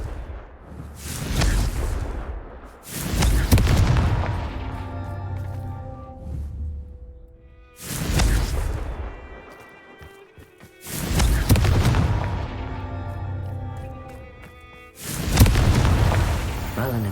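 Confringo spell blasts in a Harry Potter wizarding video game go off as five heavy booming explosions, each a loud close burst that fades into rumbling debris, spaced a few seconds apart.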